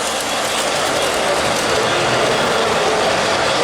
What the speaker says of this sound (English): the O gauge trains we saw outside are going to come through here.